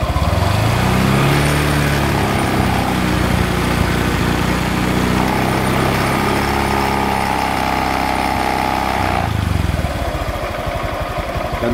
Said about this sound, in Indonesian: Nah oke, jadi keadaan mesin hidup. Nah, saya akan coba narik gas dikit.